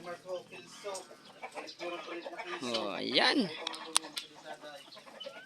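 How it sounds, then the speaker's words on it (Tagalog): Fighting-cock chickens clucking nearby with a short squawk, mixed with people talking over them. "yung mga manok"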